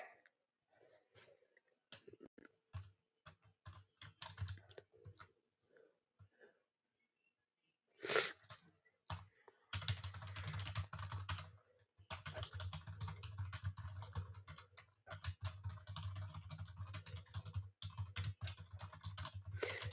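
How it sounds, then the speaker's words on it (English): Rapid keyboard typing during live news coverage of a bridge collapse, in irregular bursts of soft, close clicks with pauses, growing denser and steadier over a low background hum in the second half. "Sorry, I'm typing."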